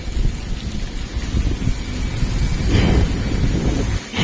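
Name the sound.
heavy rain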